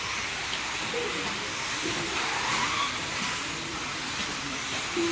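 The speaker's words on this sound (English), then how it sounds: "Let the vehicle pass behind" An RC car on a dirt track at Beach RC in Myrtle Beach, heard as a continuous hissing, high-pitched motor whine that swells slightly as it passes, steady and fairly loud throughout.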